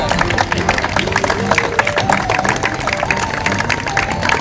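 A loud crowd claps steadily at a cricket ground inauguration, with dense applause running throughout over a continuous musical tone and a faint voice beneath.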